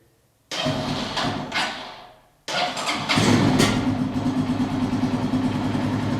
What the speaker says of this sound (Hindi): सबसे पहले जो इंजन की साउंड है हम वो सुनते हैं।